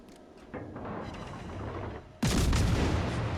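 Naval guns firing in a warship video game: a low, rumbling background of distant fire, then a sudden loud, close boom that sustains with a broad roar to the end.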